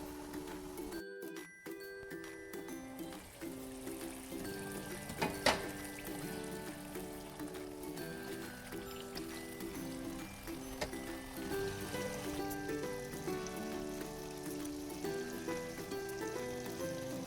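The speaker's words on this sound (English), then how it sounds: "So we're going to let it simmer some more" Pork adobo simmers in a reducing sauce with a soft, steady bubbling sizzle. A faint, tonal background layer sits beneath it, with one brief clink partway through and no talk.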